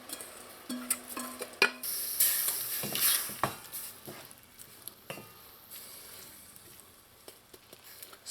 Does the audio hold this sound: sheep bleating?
no